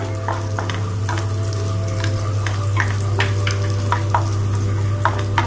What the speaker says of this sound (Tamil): கார்லிக் பூண்டு அதை அதில் போட்டுடுங்க.